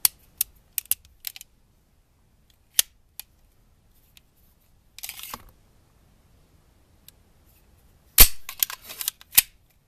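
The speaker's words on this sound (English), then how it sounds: "let's just do a safety check here" Metallic clicks and clacks from a Beretta 92FS pistol being safety-checked, sharp isolated snaps with pauses between them and a louder cluster of slide and action sounds near the end, close and otherwise quiet.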